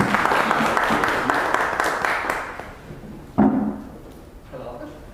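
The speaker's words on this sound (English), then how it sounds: "Let's welcome Akos with a big round of applause." Audience applause welcoming a speaker at a public-speaking club meeting, clapping that fades out over a few seconds, followed by a sharp thump and some faint talk.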